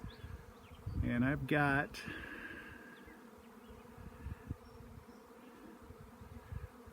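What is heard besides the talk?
honey bee swarm buzzing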